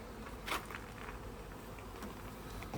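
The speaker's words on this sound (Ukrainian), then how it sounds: "Зараз тут трішки подуємо, щоб не давити тих бджілок, котрі на пальцях сидять." Honeybees buzz close around a beekeeper's fingers at an open hive, a soft continuous drone with small patters and brief louder swells, no voices.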